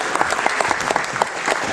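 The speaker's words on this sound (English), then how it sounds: "We'll give him a round of applause for joining." Brief applause from a small audience at an astronomy club meeting, welcoming a new member, with scattered, uneven claps over roughly two seconds.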